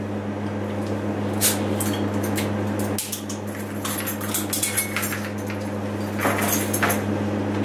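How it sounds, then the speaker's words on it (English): A bottle of Otley Oxymoron black IPA is opened by hand, with scattered light clinks and handling noises and a short sharp pop partway through, all over a steady low room hum. "let's get it open."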